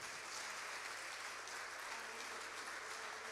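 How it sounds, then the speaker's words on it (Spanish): Congregation at a Spanish-language church service applauding, a steady, fairly faint wash of clapping from many hands throughout, with no talk over it. "Denle un aplauso a Él en esta tarde."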